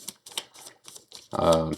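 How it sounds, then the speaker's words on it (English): Card decks for the Earthborne Rangers board game are shuffled nearby in a series of quick, crisp riffling bursts. A brief voiced sound comes at the end. "just doing the last shuffles to the path deck and our ranger deck"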